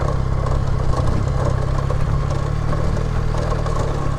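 Motorbike engine clattering along a rough hill road in the countryside, a close, loud, continuous drone with rattly overtones and no voices.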